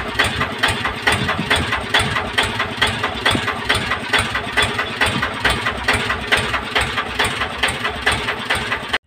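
An engine runs steadily close by, its loud, even chugging pulsing at a quick regular beat with a rattly mechanical edge, continuous until it cuts off at the very end.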